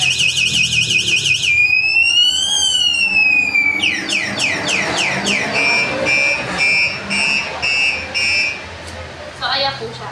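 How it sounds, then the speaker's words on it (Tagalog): Denon e-bike anti-theft alarm blaring loudly: rising and falling electronic siren tones, then rapid chirping sweeps and pulsing beeps in a continuous close sequence, with talk faintly underneath. "papatay na natin yung pinaka-anti-theft alarm natin"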